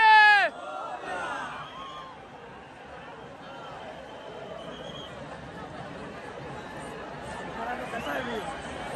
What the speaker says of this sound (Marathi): किती गर्दी आहे बघा, किती ते पोलीस आणि किती ती गर्दी